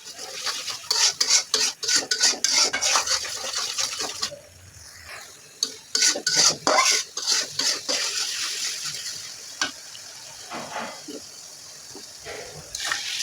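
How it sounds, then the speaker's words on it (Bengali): A spatula scrapes and stirs spices frying in a cooking pan for a lentil and minced-meat dish, in quick rhythmic strokes with short pauses. A voice speaks softly in the background. "মশলাটা কিন্তু একটু ভালো করে কষিয়ে নিব।"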